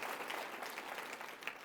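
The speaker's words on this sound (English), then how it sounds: "So maybe a quick round of applause to" A conference panel audience of a few hundred people claps at a medical meeting on liposuction for fat disorders. It is a brief, dense burst of applause with no voices.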